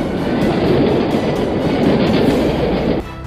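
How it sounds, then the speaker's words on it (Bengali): A cartoon-style train rushes past on a railway line near a bungalow, a loud steady rumbling roar with clattering wheels throughout, then dropping off abruptly near the end. "সাবধান, ট্রেন ট্রেন"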